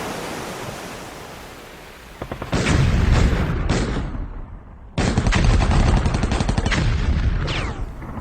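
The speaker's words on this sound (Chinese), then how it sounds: "两岸还阁互相咧炮击，单打相不打" Artillery shelling across a strait, staged as a radio drama effect, comes as heavy rumbling bursts with two long thundering volleys and a short gap between them.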